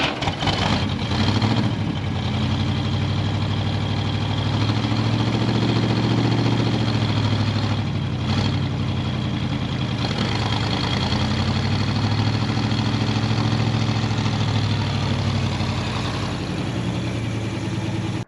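Engine of a 1970 International 4x4 pickup running steadily, a loud low rumble with a few brief surges near the start and middle, heard alone without talk.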